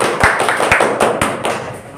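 Students in a classroom clap together in a short burst of sharp, uneven claps at close range, fading after about two seconds.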